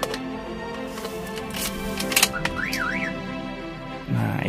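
Toyota Avanza Veloz car alarm siren sweeping up and down in a warbling pattern, preceded by clicks and handling noises close by, with a low rumble starting near the end.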